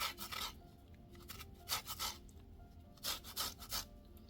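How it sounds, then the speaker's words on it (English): An orange is zested on a grater for a quick bun recipe: quiet, dry rasping strokes come in short bursts with pauses between them, heard alone and close up. "I'm going to grate an orange, zest an orange."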